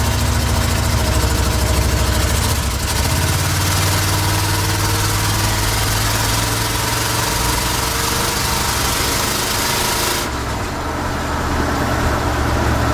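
1970 Chevrolet Sierra Grande C10 pickup engine accelerating hard, a loud, close, continuous drone that rises in pitch and then shifts near the end, with no talking.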